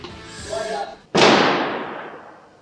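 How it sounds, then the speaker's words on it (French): Gunshot fired on a theatre stage, one sharp loud bang with a long decaying tail, following a brief murmur of voices. "Il y a un coup de feu."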